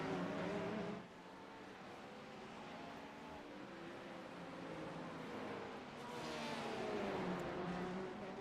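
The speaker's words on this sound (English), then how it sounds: "you can really hear Zach downshifting that Porsche super early" Porsche race car at a USRA round in Detroit, its engine note rising and dropping as it downshifts through an S-section. The sound is a steady, somewhat distant and muffled roar with shifting pitch.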